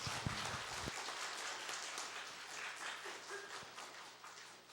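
Church congregation applauding the youth group during a Sunday afternoon service, a dense wash of clapping that runs steadily for several seconds and stays fairly even in level from start to finish.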